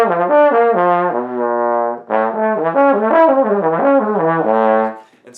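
Trombone lip slur exercise, skipping between partials without slide movement in between: sustained brass tones jumping up and down in steady stepped patterns, loud and close, played alone with a short break midway.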